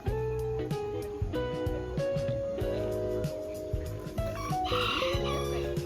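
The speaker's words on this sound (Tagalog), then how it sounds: "Chickens and dogs." Farmyard chickens clucking steadily close by while a rooster crows repeatedly through the scene, loud and continuous, with no talking.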